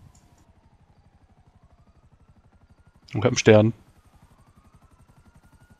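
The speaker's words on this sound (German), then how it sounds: "Mein Heli, weil da mein Zeichen drauf ist." A helicopter in Grand Theft Auto V thrums in the background with a fast, even rotor pulse, quiet and continuous, while a player speaks briefly in German over it.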